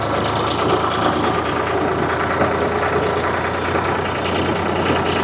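A tractor engine runs steadily through a cotton field, a continuous mid-to-low rumble with a faint knocking texture holding an even loudness throughout, with no voices over it.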